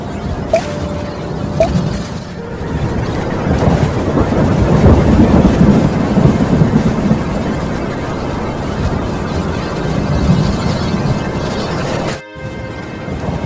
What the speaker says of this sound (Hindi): बादल के गड़गड़ाने के साथ जोर जोर बिजली चमकने लगी और देखते देखते जोर की बारिश होने लगी